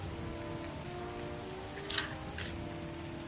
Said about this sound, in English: I came into the drive-in that rainy night.